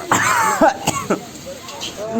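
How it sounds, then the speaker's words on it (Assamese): A few short, harsh coughs break out amid voices and background noise on a packed bus in Kolkata during Christmas, set off by a strong smell. "এতিয়া কাহ ওলাই গৈছে"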